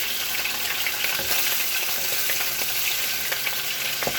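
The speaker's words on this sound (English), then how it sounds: "So I'm just waiting for the fish to cook. Oh, the oil is jumping up." Fish frying in hot oil in a pan, a loud, continuous close-up sizzle with scattered spattering pops throughout, with no voices.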